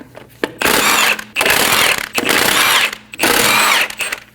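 Power tool spinning a 17mm socket to remove lug studs on a 2012-2022 Volkswagen Passat front wheel: four loud whirring bursts of about a second each, separated by short pauses, close up.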